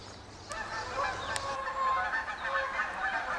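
Wild geese honk repeatedly while flying overhead in a county park, a cluster of nasal calls of moderate loudness rising and overlapping against faint outdoor background.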